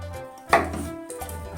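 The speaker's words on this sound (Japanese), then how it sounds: "ここだけヘタのところだけちょっと切って" Single knife cut through the base of a clump of shimeji mushrooms on a board in a home kitchen, a soft close thunk followed by faint handling sounds.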